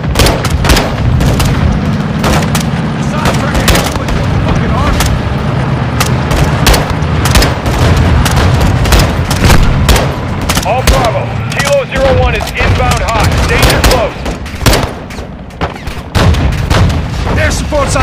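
Dense gunfire and explosions from the Modern Warfare 2 video game, with rapid shots, booms and a rumbling armored vehicle battle continuing loudly throughout, under occasional shouted voices.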